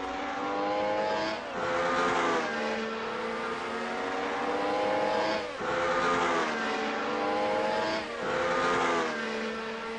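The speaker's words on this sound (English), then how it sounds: "They are the Alpha DTM cars here." Alfa DTM race cars lap a circuit in Assetto Corsa, their engines screaming loudly as they rise and fall through repeated gear shifts and pass-bys, with no voices.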